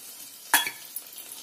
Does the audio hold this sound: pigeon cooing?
no